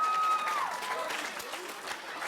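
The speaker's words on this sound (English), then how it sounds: "Give him a round of applause." Students at a school talk give a round of applause, a brief burst of clapping from a crowd in a room with some voices underneath.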